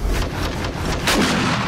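A bomber zombie blows up in the survival video game 7 Days to Die, a loud booming blast landing around the one-second mark over a dense, rumbling game soundscape during a Blood Moon horde night.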